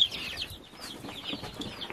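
Young light Brahma chickens cluck and peep softly in quick, overlapping calls, a close, busy chatter of several birds over about two seconds.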